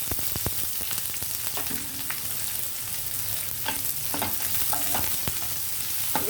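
Dried red chillies and onions frying in oil for a beetroot and chana dal stir-fry, with a loud constant sizzle and occasional spoon scrapes and knocks against the pan, no speech.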